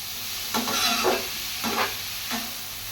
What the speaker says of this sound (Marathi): भोपळाचा तीळ घालून घेतल्यानंतर तुपामध्ये तो असा एकजीव करून घ्यायचा